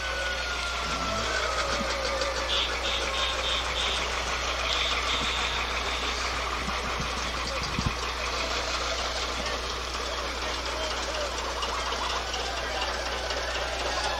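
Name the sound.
1958 John Deere 720 diesel tractor engine running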